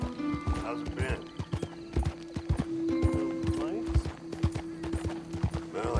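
Rhythmic clip-clop of horse hooves at a steady trot in Red Dead Redemption 2 on Xbox One X, close by, with voices talking over it and a whinny.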